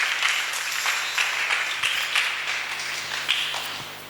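A church congregation claps in a burst of scattered, irregular applause at moderate distance, several sharp claps standing out over a faint room hum.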